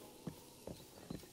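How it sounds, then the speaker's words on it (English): Horse hooves clip-clopping in the video game Breath of the Wild, the cursed horse of legend walking: three soft, evenly spaced hoof falls, faint and fairly close, over quiet background noise. "Hey, Zelda, look at this horse I got."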